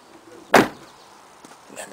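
A single solid thud of an Oldsmobile LSS driver's door shutting near 0.5 seconds, then quiet cabin shuffling and a faint click afterward.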